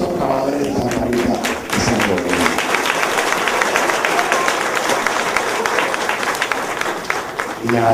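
Audience applause for the workers of Santa María at a speech, a dense, steady patter of many hands clapping that fills the whole stretch, fairly loud and close, with brief voices near the start and end.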